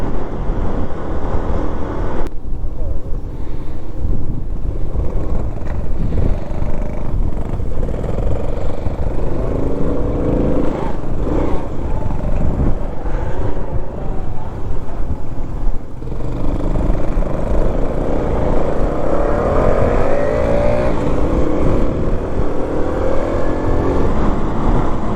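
Honda CT110 motorcycles with small engines ride as a group into a headwind, giving a steady, loud engine drone buried in heavy wind roar that never lets up.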